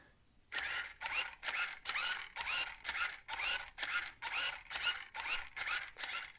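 Gan 356i robot smart cube scrambler running, a steady series of about a dozen quick, whirring mechanical bursts with short gaps between them, close and fairly loud with no voices.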